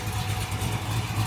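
A Corvette Z06 with a rebuilt engine and a full Cook's catted exhaust idles quietly in a brief, steady low rumble, partly masked by wind noise.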